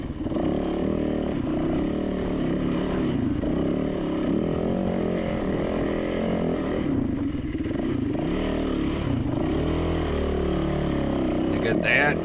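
A dirt bike engine drones steadily and loudly while the rider crawls along a rough trail at Barren Ridge, feathering the clutch, with the revs rising and falling unevenly throughout.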